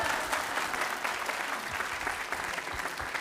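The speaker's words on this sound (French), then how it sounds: "Normalement, vous applaudissez là" Steady audience applause at a school theatre play performed by pupils in Langogne, a dense, even clatter of many hands clapping nearby and sustained throughout with no pauses.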